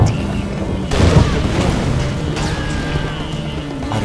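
Mortar strike explosions in the video game C&C Generals Zero Hour, with a heavy boom about a second in and more rumbling blasts and battle noise after it, loud and close.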